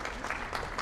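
Audience applause welcoming a guest speaker at an evening talk on arthritis, a short burst of clapping from a full house, steady and fairly even in level.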